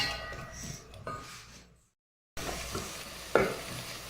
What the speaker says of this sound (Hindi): प्याज को थोड़ा सा मिक्स कर लें और थोड़ी देर के लिए फ्राई होने दें।